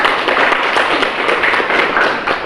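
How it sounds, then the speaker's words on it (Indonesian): Applause from students in a classroom: a dense, steady patter of many hands clapping, loud and close, lasting a couple of seconds. "berikan aplaus untuk halo"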